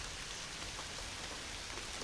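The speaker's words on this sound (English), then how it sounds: "It's raining out there." Soft, steady rain patters outside, a quiet even hiss of drops with no voices.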